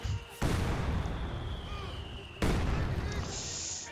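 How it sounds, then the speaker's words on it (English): Heavy mortar shells land in Company of Heroes 2, with two loud booming blasts a couple of seconds apart, each trailing into a long rumbling decay of battle noise. "Almost got a wipe there again with the heavy mortars"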